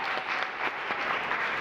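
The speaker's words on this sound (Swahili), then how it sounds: "Tumpigie makofi bishop." Audience applause for a bishop at a church teaching service, a brief, fairly soft patter of clapping that holds steady with no voices.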